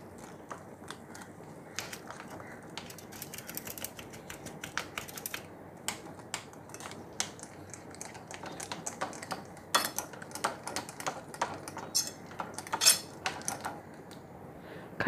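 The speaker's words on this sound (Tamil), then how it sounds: "கட்டி இல்லாமல் நல்லா மிக்ஸ் பண்ணிக்கிறோம்" Batter for a simple pancake being whisked with cow's milk until smooth, heard as a quick, steady run of light clicking taps of the whisk against the bowl, close and continuous throughout with no talking.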